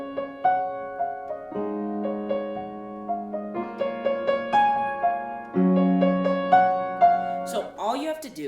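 A piano plays the closing section of a song, a slow, sad melody of sustained chords with a high line, clear and close, with no voices over it.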